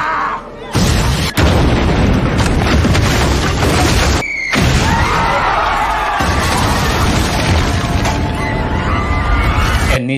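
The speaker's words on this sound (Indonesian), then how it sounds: "ledakan pun satu persatu menghancurkan sudut kota Tokyo" Loud explosions tearing through a Tokyo cityscape in the Rurouni Kenshin film, with heavy booms and crashing blasts over a dense, continuous rumble of chaos and a few sharp cuts between bursts.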